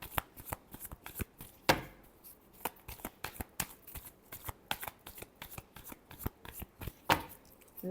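Tarot cards are shuffled by hand up close, a rapid run of sharp papery riffles and taps with a few louder bursts, quiet and without any speech over it.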